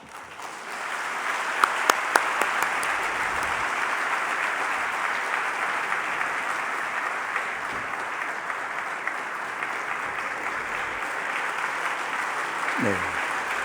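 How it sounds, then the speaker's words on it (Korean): Steady, enthusiastic audience applause welcoming a pastor to the stage at a church elders' couples retreat, holding evenly throughout with a brief voice near the end. "나오실 때 힘찬 박수로 맞이해 주시겠습니다"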